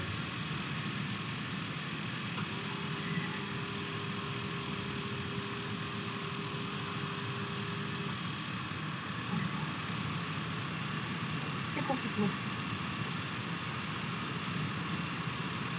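Airplane taxiing off the runway in a flight simulator game, a steady engine drone and hum running continuously at even volume, with a brief tonal whine partway through and no talking.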